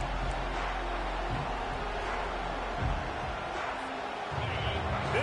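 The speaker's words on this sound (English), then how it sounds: "This crowd bringing the energy and noise early." Broad, steady roar of a college football stadium crowd at a Nebraska–Florida State game, dense and continuous with swelling surges, a distant announcer-like voice faintly under it.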